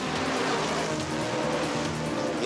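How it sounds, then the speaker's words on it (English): NASCAR race cars roar past at high speed, a loud dense engine blare with no gaps over the full stretch and no talking. "I like the way the engines draw. They're kind of noisy."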